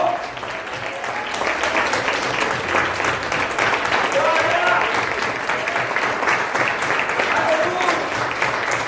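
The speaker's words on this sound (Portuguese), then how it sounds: "Aplauda bem forte esse Jesus maravilhoso, gente" A church congregation at a worship service claps steadily and enthusiastically in praise, dense applause running throughout while a preacher's voice calls out over it.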